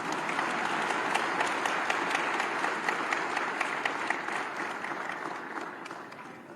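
An audience at a Chhattisgarh Chamber of Commerce gathering breaking into applause, steady dense clapping that slowly fades toward the end, with a faint voice underneath.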